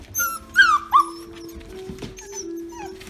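Six-week-old Irish doodle puppies whimper and yip in short high whines, several quick cries close by in the first second, then softer whimpering, with a faint voice in the background.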